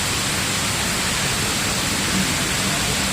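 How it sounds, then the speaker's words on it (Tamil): A waterfall cascades down a mountainside in Fujairah, a dense, constant rushing hiss of falling water that fills the whole stretch at an even, loud level, with nothing else standing out. "உயரத்திலிருந்து எப்படி அருவி வருகிறது பாருங்க. நல்ல தண்ணீரோட சவுண்டு நல்லா பயங்கரமாக"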